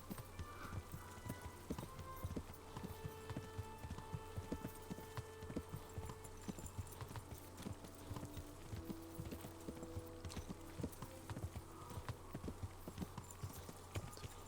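Video game horse hooves: steady, rhythmic hoofbeats clip-clop at a trot, quiet and even, with a low hum running underneath.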